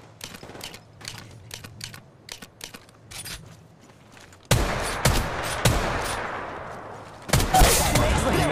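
Gunfire in Apex Legends Mobile: sparse, faint sharp shots at first, then loud close bursts of rapid automatic fire with heavy reverberant booms, interrupted by a brief pause before another loud volley.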